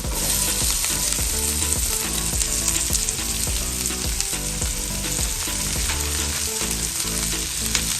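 Capsicum frying in a pan for pasta, a loud, dense, constant sizzle close up with faint rhythmic stirring beneath it.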